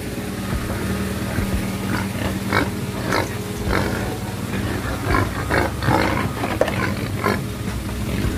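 Pigs held in a livestock vehicle in Merauke give repeated loud, close grunts and snorts in irregular bursts over a noisy background, with occasional voices.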